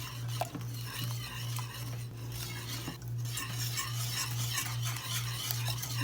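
Melting caramel stirred in a pan, with a utensil scraping and clinking in a regular rhythmic pattern over a soft sizzle and a low pulsing hum, fairly quiet, no talking.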